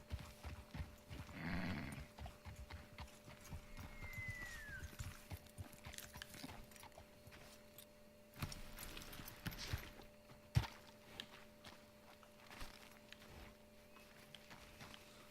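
Horse hooves clip-clop at a walking pace in Red Dead Redemption 2, a steady rhythmic plodding that stays quiet and mid-distance under ambient outdoor sound, with a brief whinny-like tone early on.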